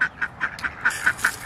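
Ducks in a backyard flock quacking close by, a quick run of about eight evenly spaced, nasal calls.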